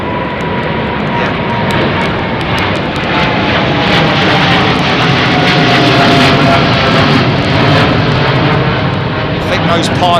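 Jet airliner engines at London Heathrow under a low cloud base make a loud, sustained rumbling roar with a crackling edge, continuous from start to finish.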